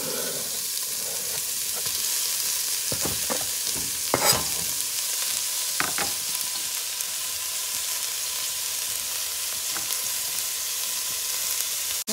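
Bora ingredients dropped together into hot oil in a cooking pot, giving a steady close hiss of frying broken by a few sharp clatters of stirring and ingredients landing, with no talking.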